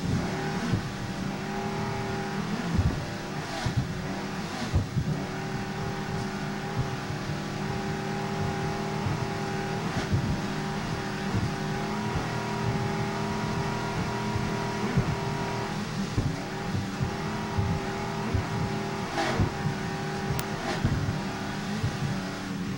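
A 29-foot Warlock offshore racing powerboat roars at steady high throttle during an offshore grand prix race, its engine drone loud and continuous, with thumps and bursts from pounding over bumpy water.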